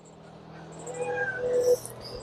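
A cat gives a drawn-out meow with a rising, tonal cry, fairly close and moderately loud, over low steady background hum and no talking.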